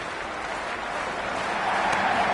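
A stadium crowd in the PS5 cricket game Cricket 26, at a Big Bash League match between Adelaide Strikers and Melbourne Stars, keeps up a steady roar of cheering and applause that swells slightly toward the end.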